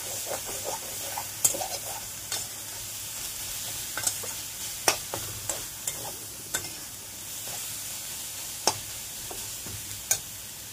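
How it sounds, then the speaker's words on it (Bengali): Data stem greens stir-fry slowly in oil with a low, steady sizzle, punctuated every second or so by light clicks and taps of a spatula on the pan, with no one talking. "আস্তে আস্তে করে ভাজতে হবে এটাকে।"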